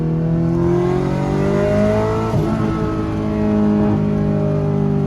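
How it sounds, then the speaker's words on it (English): A turbocharged 1988 Ferrari Mondial Coupe accelerates hard through a gear on low boost, its engine note climbing steadily with a brief dip around a shift before pulling again, loud and close throughout with no talking. "I'll show you what the in-gear acceleration is like. Remember, this is on the low boost setting."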